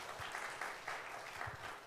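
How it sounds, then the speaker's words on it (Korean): Audience at a church family seminar lecture applauding to thank the speaker, a faint, steady patter of clapping with a few louder claps standing out. "우리의 감사의 마음을 박수로 표현해 주시면 감사하겠습니다."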